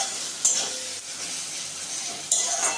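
A spice paste for banana flower curry being stirred and fried in a pan, a steady soft sizzle with scraping spatula strokes, two louder stirring bursts near the start and the end.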